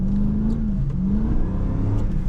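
A 2004 Jeep Grand Cherokee with the 4.7 V8 H.O. engine accelerates hard, its low engine note rising steadily and loud throughout, with no speech over it.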